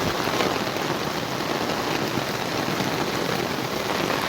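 Heavy rain during floods in Amaravati pours down in a dense, continuous hiss and patter on surfaces, loud and unbroken throughout.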